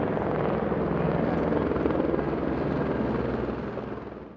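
A helicopter flies over the Marmolada massif during a mountain search and recovery operation, its rotor giving a loud, continuous throbbing roar that holds steady, then slowly fades toward the end.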